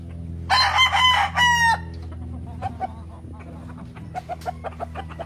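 A rooster crows loudly nearby on a poultry breeding farm in the Philippines in one long, broken cry, followed by quieter clucking and scattered chicken sounds.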